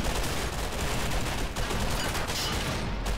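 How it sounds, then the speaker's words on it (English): Dense, continuous gunfire from a super tank's gun in the Army Men video game rattles without pause, loud and close, with heavy overlapping bursts and no voices. "Taking some direct hits there from that this super gun right here."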